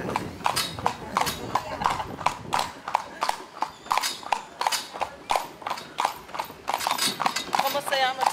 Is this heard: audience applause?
no